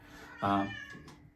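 A cat lets out one loud, clear meow near the start, then faint indoor background follows with a softer second cat sound, all close and with no talking.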